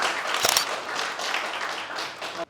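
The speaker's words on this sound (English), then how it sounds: "A big round of applause for Aditya." An audience gives a round of clapping for a Karnataka PU science topper at a felicitation event, moderately loud and continuous before cutting off abruptly.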